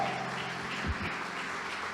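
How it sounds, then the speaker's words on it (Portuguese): Church congregation applauding during a worship service, a steady, moderately loud wash of clapping hands filling the space without voices for about two seconds. "Quem crê nessa palavra, dá um aplauso para Jesus."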